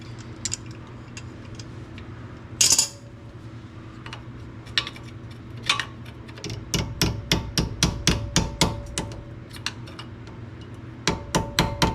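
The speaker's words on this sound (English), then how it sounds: "I'm gonna get a hammer and tap this into position." Sharp metallic hammer taps on a rear brake part of a 1969 Dodge Charger, a few scattered at first, then a quick run of evenly spaced strikes, close and loud.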